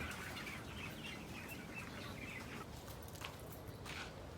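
Broiler chickens clucking in a poultry house on a Philippine farm, a faint steady background of overlapping clucks and chirps over constant ambient noise, with no talking.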